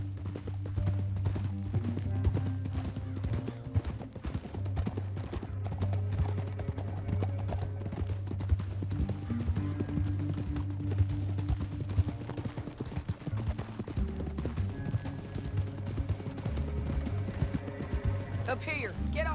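Horse hooves clip-clop steadily through a canyon in Red Dead Redemption 2, a continuous riding rhythm under a low musical score, with occasional speech over it.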